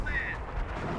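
A short, muffled artillery rumble from the strategy game Company of Heroes, a low booming thud with a rolling tail, faint and distant-sounding.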